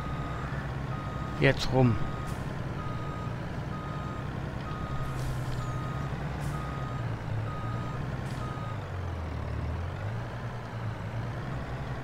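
A truck reversing in Farming Simulator 22, its backup alarm beeping at an even pace over a low idling engine, while someone speaks briefly near the start.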